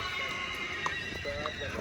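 Mare neighing as it is walked around on a farm, a couple of short whinnies over soft hoof clops and low background noise, fairly faint and brief.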